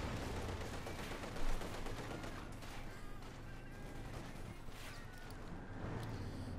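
Rocket barrage from a German Stuka zu Fuss firing 28 cm rockets in the strategy game Company of Heroes 2, a dense rumbling volley of launches and distant blasts that continues through the whole stretch under steady battle noise.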